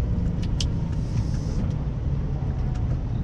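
A car drives along steadily, a continuous low engine and road rumble heard from inside, with a few faint higher squeaks over the drone and no talking.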